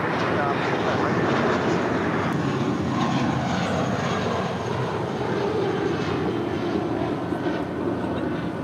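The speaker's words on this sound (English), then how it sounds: "That was American Airlines Flight 539 heading to Austin, Texas." An American Airlines Airbus A320 jet at Los Angeles International Airport gives off a steady, moderately loud engine rumble and roar, with a voice faintly present underneath.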